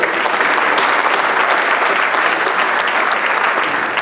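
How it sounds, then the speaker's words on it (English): Dense, steady applause from a large audience at the 2013 Turkish Airlines Star Partners of Houston gala awards event, filling the room evenly and without a break. "I'd like to do another round of applause"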